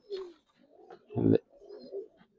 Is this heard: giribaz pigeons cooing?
yes